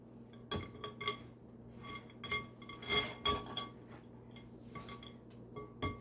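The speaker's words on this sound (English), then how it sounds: "I'm gonna whisk it so it gets smooth to a point" A whisk clinks against a bowl as apple donut batter is mixed, with irregular bright taps and light rhythmic scraping, close and moderately loud, with no voices.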